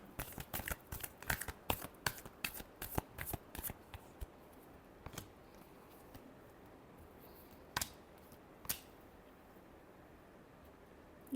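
Tarot cards are shuffled during a love reading, heard close and soft as a quick run of crisp riffling flicks over the first four seconds, then two lone snaps later on, over quiet room noise.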